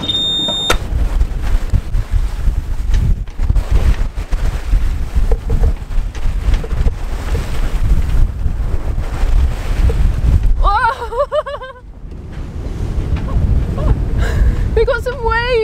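Sailing boat pitching through waves in strong wind, with heavy wind rumble buffeting the microphone and sloshing water, broken by a few short bursts of talk near the end.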